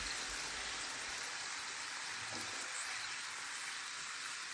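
Steady broadband sizzle of dough frying in hot oil, continuous and fairly quiet, with a faint soft bump partway through.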